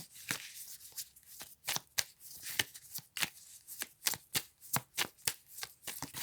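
Playing cards shuffled and drawn during a tarot-style card reading, a quick run of crisp riffling snaps and flicks in an uneven rhythm, close and clear with no talk.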